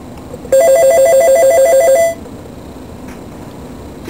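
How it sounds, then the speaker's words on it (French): A telephone in an observatory office rings with one steady electronic trill lasting about a second and a half, loud and close, followed by quiet room tone with no one speaking. "Téléphone."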